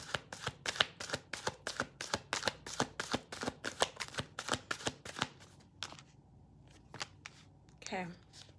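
A deck of tarot cards being shuffled by hand, a rapid run of crisp riffling clicks for about six seconds, then a few scattered card taps and a short rustle.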